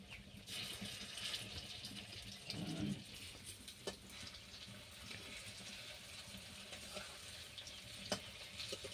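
Kofta balls fry in hot oil with a faint, steady sizzling hiss and an occasional light tap or scrape, heard alone and quiet.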